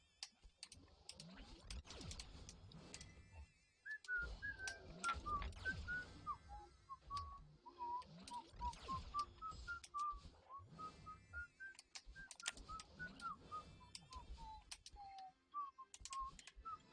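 A person whistles a meandering melody of bright, wavering notes, close and fairly quiet, with faint clicks and taps around it and occasional short pauses.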